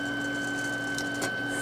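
A 3D printer printing ABS hums with a steady motor tone and faint stepper whine, with a brief clicking movement near the end, close and continuous.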